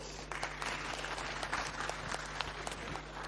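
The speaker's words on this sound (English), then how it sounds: "Give him a round of applause." Faint, distant clapping from a conference audience, a steady patter of many hands over a low hum.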